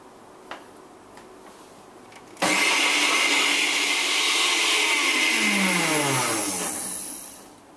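A food processor switched to high blends homemade Nutella, starting abruptly into a loud, steady whirring drone that shifts pitch as the paste thickens, then winds down near the end.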